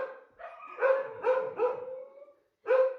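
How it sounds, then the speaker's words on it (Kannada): A dog in a home gives a run of loud, close barks and yelping howls, several bursts in quick succession, a short pause, then one more bark, with no talk over it. "ಈ ನಾಯಿ ಒಂದು ಕಾಟಪ್ಪ ದೇವ್ರೆ."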